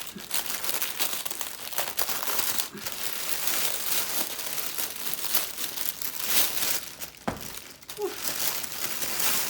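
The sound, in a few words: paper wrapping crinkling while unwrapping fabric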